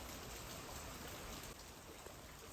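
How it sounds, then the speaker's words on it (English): Water drips and trickles steadily inside Mossy Cave, a continuous soft wet patter like light rain that stays even and fairly quiet throughout. "You can see the water dripping through"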